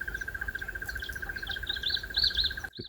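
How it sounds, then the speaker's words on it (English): A crested barbet, a black, yellow, white and red bird on safari, gives a long, unbroken rapid trill at one steady pitch, with fainter chirps from other birds above it, before the sound cuts off abruptly. "The crested barbet."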